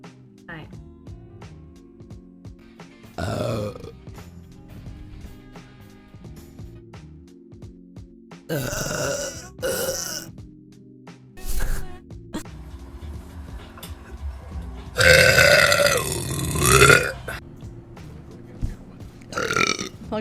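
A woman streaming on Twitch lets out several loud burps, some short and one long, drawn-out belch near the end, between bursts of chatter and laughter in a quiet room.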